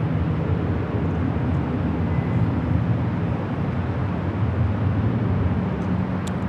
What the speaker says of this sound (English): Virgin flight 23 now touching down on 25 left